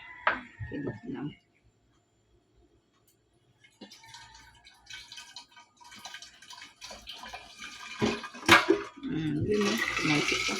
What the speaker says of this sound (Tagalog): Dagdagan natin tubig para mapuno siya.